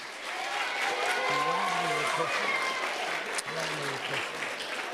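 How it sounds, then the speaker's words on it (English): Steady applause from a crowd at a citizenship quiz competition fills the room throughout, with a voice speaking over the clapping. "Let's give them a round of applause"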